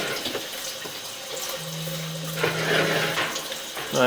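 Running water from a tap rinses dirt off the lens of a pipe inspection camera, giving a close, steady splashing flow with small bubbling variations.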